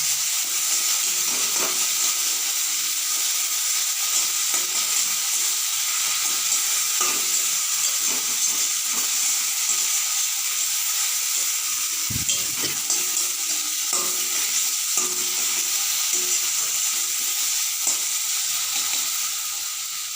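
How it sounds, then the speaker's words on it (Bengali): Okra curry is stirred in a frying pan with salt and turmeric, a continuous loud sizzle and hiss running under occasional scraping of the spoon against the pan, with no voices. "লবণ হলুদ গুঁড়ো দিয়ে ভালো করে নাড়বো"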